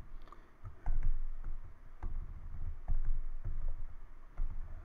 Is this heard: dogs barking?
no